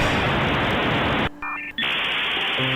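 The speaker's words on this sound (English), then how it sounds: "and a modem dialing up." A modem dials up with loud, harsh broadband static that abruptly drops to a short run of tones and beeps, then returns to hissing noise with more tones.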